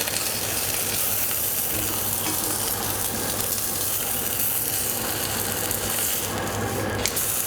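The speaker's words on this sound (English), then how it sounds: "I think we're ready to fry off the vegetables for a couple of minutes" Vegetables frying for oxtail soup, a steady dense sizzle and hiss that holds at an even level throughout, close and fairly loud, with no voices.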